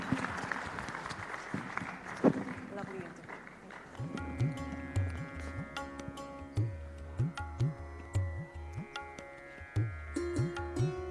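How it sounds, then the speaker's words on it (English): A conference crowd gives a warm round of applause for Stephen Harper. The dense clapping lasts a few seconds and then gives way to rhythmic music with a thumping beat. "A huge round of applause for Prime Minister"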